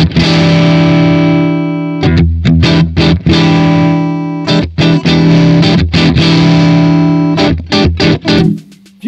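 Electric guitar through a Tank-G captured profile with the guitar volume rolled down: loud, choppy, stop-start chord stabs and short riffs with a lightly driven, still-tight tone and brief silences between hits.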